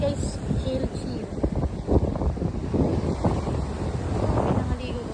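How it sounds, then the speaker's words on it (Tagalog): Steady wind buffeting the microphone with a low rumble, mixed with the wash of waves and water around a moving boat, with voices partly underneath. "Sarap ng hangin."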